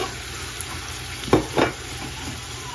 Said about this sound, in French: je vais tourner, faire revenir et dorer la viande en même temps